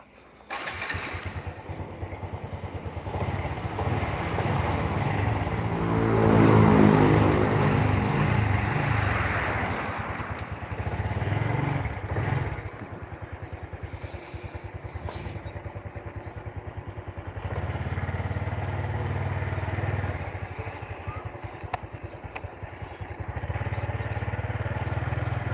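Honda Revo fuel-injected motorcycle engine running, a steady close idle with a rise in revs early on, some clatter, and brief dips before settling back to idling.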